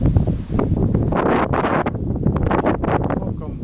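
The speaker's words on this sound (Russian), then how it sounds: "Видите, какой ветер, прям невозможно." Strong gusts of wind buffet the microphone, roaring and rustling continuously with a voice talking underneath.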